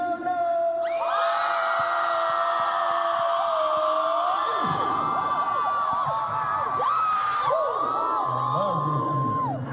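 A large concert crowd at a soundcheck screams, whoops and cheers continuously and loudly, many high voices rising and overlapping in a dense roar.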